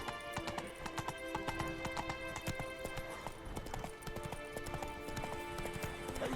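A horse gallops in The Witcher 3 video game. Quick, steady hoofbeats clip-clop close by without a break, with game ambience and light background sounds underneath.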